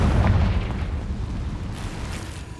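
Confringo blasting spell in Hogwarts Legacy, a single loud booming explosion that hits at the start and rumbles away, with a faint crackle trailing off.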